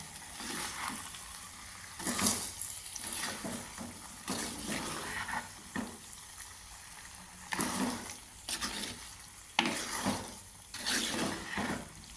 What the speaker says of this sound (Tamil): இப்போ இந்த சீஸையும் சேர்த்து மிக்ஸ் பண்ணி விடுங்க